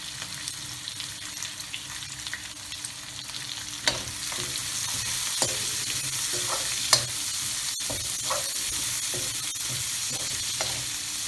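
Blanched, diagonally chopped French beans, green chillies and carrots sizzle steadily in a pan while being stir-fried for spicy noodles and fried rice, with scattered clinks and scrapes from stirring.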